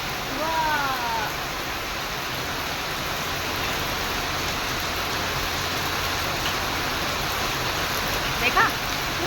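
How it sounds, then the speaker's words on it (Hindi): Heavy rain pours down on an empty residential lane, a dense, constant roaring hiss that fills the whole scene at close range, with a few faint chirps poking through. "ये देखो झमाझम बारिश,"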